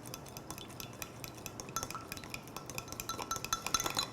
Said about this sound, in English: And then we just stir to combine and emulsify our dressing.